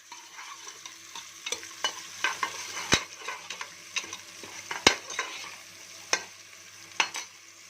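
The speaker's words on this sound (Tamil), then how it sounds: "அரிஞ்சு வச்ச சாம்பார் வெங்காயம் போட்டுக்கலாம்" Chopped sambar onions fry in groundnut oil while being stirred, making a soft continuous sizzle punctuated by repeated sharp scrapes and clinks of a spoon against the pan, with no talking.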